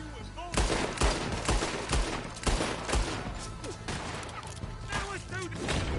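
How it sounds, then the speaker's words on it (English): Dense volleys of gunfire in a Red Dead Redemption 2 shootout, repeated sharp shots and bursts crowding one another loudly throughout, with voices faintly underneath. "I'll riddle you with bullets"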